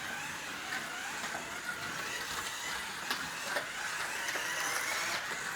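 Dodge Viper GTS-R race car in a video game, a steady loud engine drone with a high whine that holds constant throughout, no speech.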